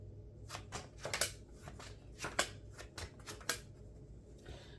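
Tarot cards are shuffled close by in a quiet room, a series of short, soft riffling and clacking bursts separated by brief pauses.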